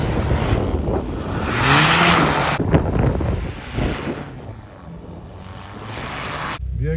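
A car engine revs and strains while driving through heavy snow, the roar swelling and dipping in bursts, mixed with heavy wind buffeting on the microphone.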